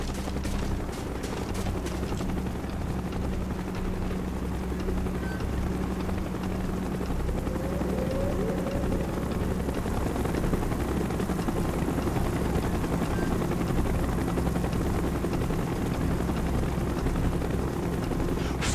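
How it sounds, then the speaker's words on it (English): A helicopter in the military shooter Call of Duty: Black Ops thrums steadily throughout, a dense continuous rotor drone that holds loud and close the whole time, with no talking. "Chopper's inbound! Move it!"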